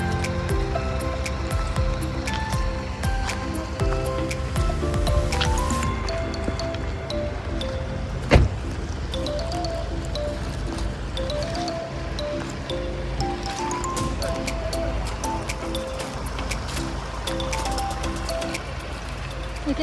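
Water of the Cox River flowing in winter, with drips, gurgles and trickling around the listener, steady and moderately close, with a single sharp knock partway through.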